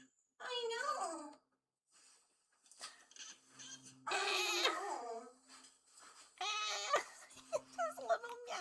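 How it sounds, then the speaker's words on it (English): A cat gives several soft, short meows at close range, separated by quiet gaps. "Just little meows."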